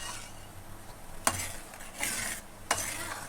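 Karachi halwa being stirred in a pan gives soft scraping stir strokes with a faint sizzle underneath, marked by a few sharper utensil scrapes, quiet and close with no talk.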